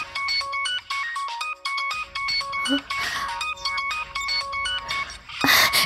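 A phone ringtone plays a bright repeating electronic melody, loud and close, with brief rustling sounds mixed in.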